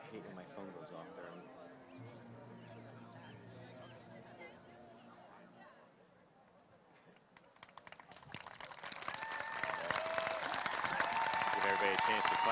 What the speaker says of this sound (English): Give everybody a chance to clap.